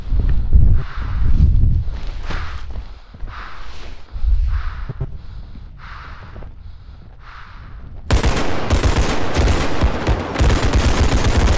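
Gunfire in the ultra-realistic shooter Bodycam starts as rhythmic muffled bursts, then breaks after about eight seconds into a loud, continuous stream of rapid shots, with no talking.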